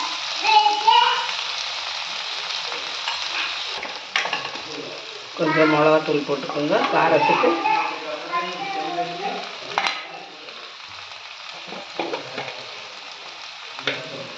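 Tomato frying in a pan for a mutton kola urundai kuzhambu, a soft steady sizzle that runs beneath someone talking, with occasional stirring scrapes.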